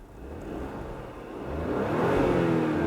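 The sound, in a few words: 2019 Porsche Cayenne engine starting and revving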